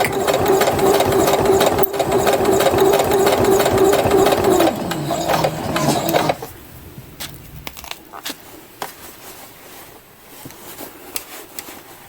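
A sewing machine stitches a thick seam on a fabric welder's cap, running as a loud, steady mechanical hum for several seconds. It then stops, leaving quiet handling clicks and taps.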